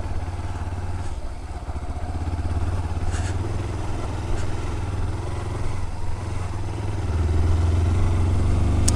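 A motorcycle grinds up a steep trail in the Campos do Quiriri in second gear, its engine droning loud and close without pause, rising slightly toward the end.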